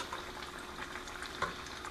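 Thin crappie fillets in a homemade beer batter frying in hot oil, a continuous soft crackle and sizzle, fairly quiet and close, with a small pop near the end and no talking.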